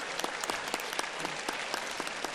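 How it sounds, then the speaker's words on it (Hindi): Loud, dense audience applause at a yoga and healing session fills the whole stretch, with sharp individual claps standing out in a steady rhythm above the crowd's continuous clapping. "अब भानुमति के लिए जोरदार ताली बजा दो भाई"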